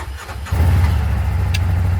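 A Kubota tractor engine cranks briefly and then catches, settling into a loud, steady, rumbling idle close by, with no talking over it.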